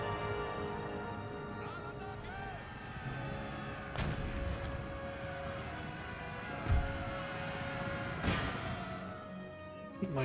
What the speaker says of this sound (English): Good cover, good artillery hit though.